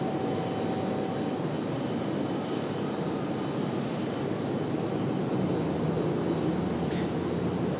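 American Airlines jet arriving from Charlotte at Raleigh-Durham airport, a continuous broad engine roar holding steady and fairly distant throughout, with no one speaking.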